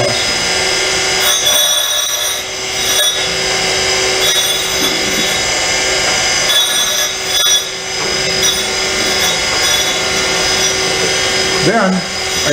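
A surface grinder makes a full pass across a workpiece: a continuous loud whirring hum with a high whine and gritty rubbing, steady throughout with brief dips and a scrape near the end.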